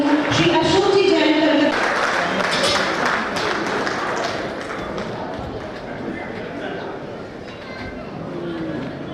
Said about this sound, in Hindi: आपके लिए बहुत जोरदार तालियां